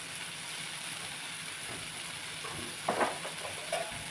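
A garlic chutney spice paste fries in a pan and sizzles softly and steadily up close, with a few sharper scraping stirs near the end and no speech.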